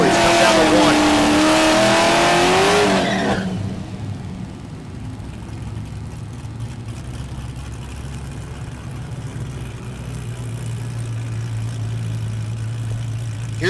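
A naturally aspirated small block drag racing car sits at Mid America Dragway in Geuda Springs, Kansas, its engine idling as a steady low drone after a brief opening burst of loud noise, with a slight rise near the end.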